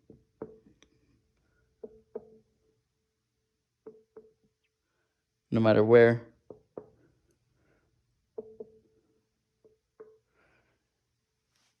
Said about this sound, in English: every time I knock on it, you could feel that up here as well